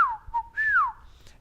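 A person whistles to call a trained pet cat: two clear, falling whistled notes with a short pitch dip between, close and alone.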